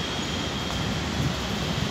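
A Delhi Metro train rumbles at Paschim Vihar metro station, a continuous, fairly loud roar of wheels and running gear with no talk over it.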